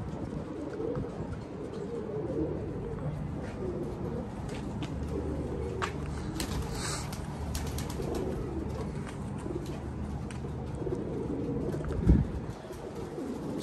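Pigeons coo softly and repeatedly from a loft or cage, low and somewhat distant, over a steady hum of background noise with a brief louder knock near the end.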